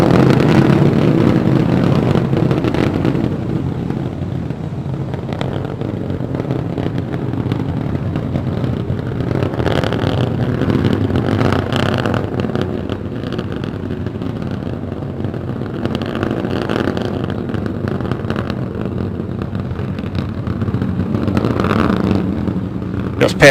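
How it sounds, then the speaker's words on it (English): A continuous roaring rumble from three Raptor rocket engines burning in flight on a Starship SN15 high-altitude test, with broadband noise, holds steady throughout, loud and unbroken, with faint announcer-like voices underneath. "All 3 Raptor engines continuing to burn."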